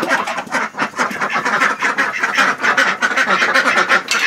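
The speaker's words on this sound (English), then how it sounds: "Let's go let the duckies out." Ducks let out in the morning on a farm chore round: a loud, close flock quacking continuously in overlapping rapid calls, with no voices heard.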